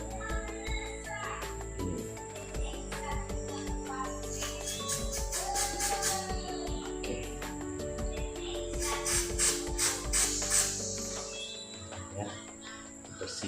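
Injector cleaner sprayed onto a very dirty Yamaha Xeon motorcycle fuel injector, giving two hissing bursts of a few seconds each over steady background noise.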